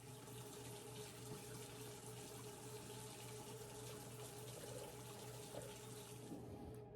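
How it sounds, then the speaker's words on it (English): Tap water pours steadily into a container up to the one-cup line while a sourdough starter is being made, a soft continuous rush in a kitchen, faint and even throughout, with no voices. "I'm going to fill it with water up to this line"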